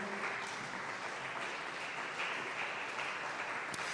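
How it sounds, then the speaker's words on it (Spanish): A church congregation applauding, a dense, even wash of clapping held steadily at moderate distance for several seconds with no speech over it. "Dale un fuerte aplauso al Señor porque Él merece la gloria."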